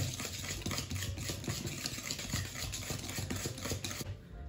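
Cookie dough is whisked by hand with a manual whisk in a rapid, continuous scraping and clattering rhythm, close and fairly steady before easing off at the end.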